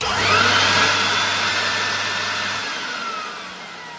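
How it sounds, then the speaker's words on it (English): A 1984 Numatic Henry HVC200 vacuum cleaner motor, stripped down for refurbishment, whirs loudly for a couple of seconds with a steady broadband roar and high whine, then begins spinning down. "I'm just going to plug it in, turn it on for like 2 seconds, just so all the dust goes out the motor."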